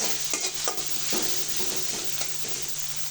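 Raw spice paste with a spoonful of salt frying in a pan, a steady close sizzle broken by repeated scraping stirs of a spatula, no voices.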